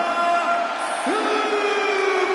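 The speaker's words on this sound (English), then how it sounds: "It's great to hear the crowd give this superstar the reception he deserves" Video-game wrestling crowd cheering for a superstar during his ring introduction, a steady dense roar of many voices that holds loud throughout, with a drawn-out announcer-like call rising over it partway through.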